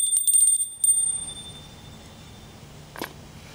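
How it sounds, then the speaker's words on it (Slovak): A small hand bell is rung during a Hindu puja, giving a quick cluster of bright metallic rings that fade out, then a single softer strike a few seconds later in a quiet room. "budete zvoniť zvončekom"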